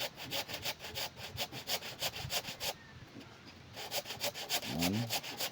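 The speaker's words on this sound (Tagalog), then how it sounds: "Napakatalas talaga ng lagari" A hand saw rasps back and forth through firewood in quick regular strokes, pausing briefly before resuming, fairly close.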